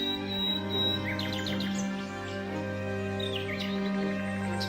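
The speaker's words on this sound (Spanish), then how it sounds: "viven muchas aves de la especie Gansos patola" Seabirds at a breeding colony of boobies on a Colombian island give repeated high chirping calls over a steady droning background, several birds calling near and far, with no speech.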